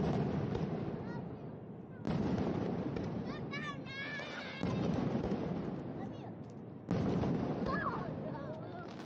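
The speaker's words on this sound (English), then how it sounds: "At about 10 o'clock, the fireworks started" Fireworks at a sternwheel regatta boom in four heavy blasts about two to three seconds apart, each followed by a long crackling decay, with voices and whistling cheers from the crowd between them.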